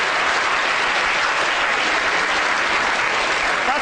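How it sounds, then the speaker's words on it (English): An audience at a brain-science lecture breaks into loud, continuous applause, a thick wash of clapping with no pauses. "Give yourselves a round of applause."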